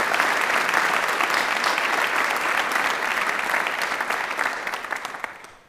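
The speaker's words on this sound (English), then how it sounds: "If we could give them a round of applause." Sustained, dense applause from the audience at Washington College's 2013 fall convocation, loud and steady before tapering off near the end.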